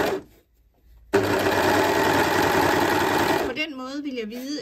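An overlock sewing machine runs steadily while stitching a seam, a loud continuous whirring hum after a short quiet start, fading as a voice begins talking near the end.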